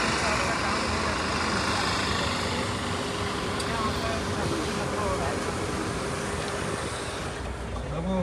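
Steady road traffic noise from a long traffic jam near Mangaon, a continuous engine rumble and road hum heard from inside or beside a vehicle, with people talking over it.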